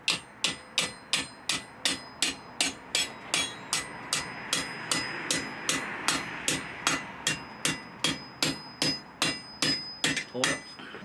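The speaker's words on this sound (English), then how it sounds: "now start hammering down right over top of the post" Steady, evenly paced hammer blows ring out one after another while forging a campfire pan holder over a post, about two strikes per second, loud and close, with no voices.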